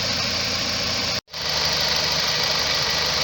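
A 2003 Nissan Altima 2.5L engine idles steadily while warming up, a close, continuous mid-pitched hum with a brief dropout near the middle before the idle carries on unchanged.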